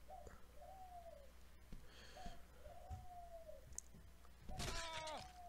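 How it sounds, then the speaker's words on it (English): A bird calls in the background behind a Happy Wheels game session, its chirps and coos repeating faintly every second or so amid game noise, with a sharper burst of sound near the end. "I'm sorry guys if you hear a bird in the background."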